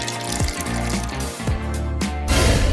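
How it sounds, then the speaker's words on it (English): Water pouring into a small paper craft tub, a bright splashing fill broken by a few short knocks and gurgles, close and fairly loud, growing fuller near the end. "Add water."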